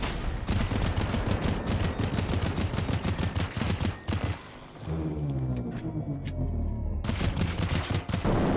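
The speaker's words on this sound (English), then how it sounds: "Now we have the Klauke, the best pistol in the game." Klauke pistol from the video game Generation Zero firing in a fast, continuous stream of close, loud shots, a short pause in the middle before the rapid shooting resumes.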